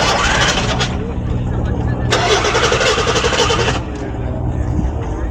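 A car with a four-barrel carburetor cranking and catching at a foreign auto show, the engine noise loud and close in two bursts with someone talking over it.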